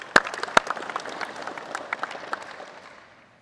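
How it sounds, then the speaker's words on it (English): A crowd at a bass fishing tournament awards ceremony at Lake Seminole applauds a competitor, opening with a couple of loud, close claps before the clapping spreads and gradually fades away. "So give Steven a big round of applause."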